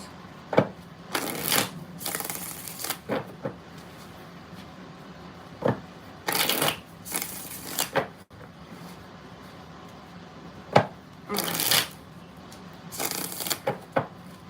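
Tarot cards shuffled by hand in several quick, crisp bursts separated by short pauses, close and fairly quiet, with no talking.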